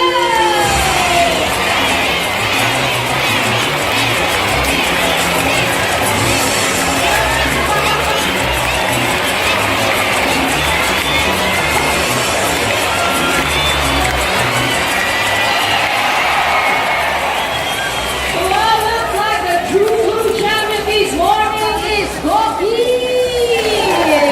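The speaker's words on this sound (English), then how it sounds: "Barry supporters, come on, you have to cheer louder." A crowd of spectators, with many children, cheers and shouts continuously at a bird show at Jurong Bird Park in Singapore. The noise is loud and sustained, and shrill excited whoops rise toward the end.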